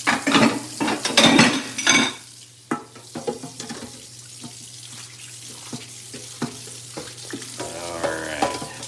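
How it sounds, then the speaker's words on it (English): Food sizzles in heated pans while utensils clatter and scrape against the metal, with running tap water and sink sounds mixed in; irregular clanks and knocks come and go over a low hiss, with no talking. "Let's get some pans out here."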